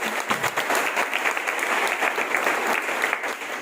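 Steady applause from a church congregation fills the room, dense and continuous clapping throughout with no break in rhythm.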